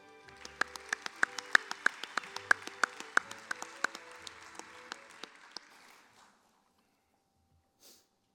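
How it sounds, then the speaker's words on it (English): A convention audience at the 88th Kansas FFA Convention applauds award winners: a dense wash of clapping with sharp individual claps standing out, steady for about six seconds before fading quickly to quiet. "Let's give one more round of applause to the top KAAE SA Award winners."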